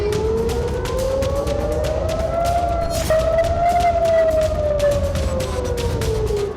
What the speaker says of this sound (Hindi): बार बार सायरन की आवाज गूंजती है।